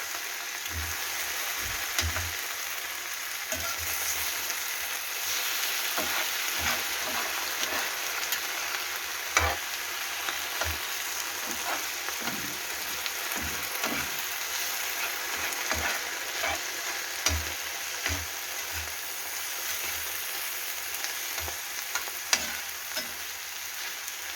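Mushrooms fry in a pan with a continuous loud sizzle, while a utensil stirs them, giving irregular scraping clicks and knocks against the pan throughout, no talking.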